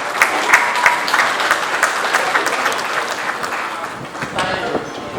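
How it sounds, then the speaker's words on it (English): Applause at the Nigerian Institution of Environmental Engineers inauguration ceremony: a loud, dense burst of clapping from a seated audience, sustained and fairly close, with a voice speaking over it. "And I thought we will give NSC a round of applause for that."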